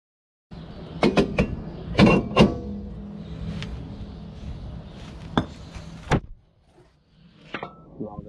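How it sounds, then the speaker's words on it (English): Sharp metallic hammer blows drive sway bar end links into a Nissan Sentra's rear suspension, irregular strikes, some in quick pairs, over a low mechanical hum, close and fairly loud. "we're gonna go ahead and hammer these ends in"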